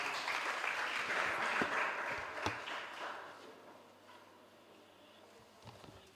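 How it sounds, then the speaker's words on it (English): Audience applause at an international spelling competition in Africa, a dense, loud clatter of clapping that gradually thins and fades to a quieter murmur by the end. "Can you clap for them?"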